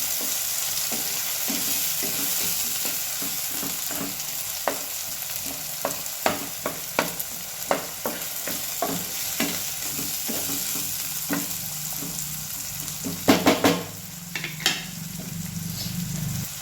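Onion and tomato being stirred and roasted in a pan, a continuous sizzle under steady, evenly spaced scraping strokes of a spoon, with a quick flurry of clinks near the end, close and without talk.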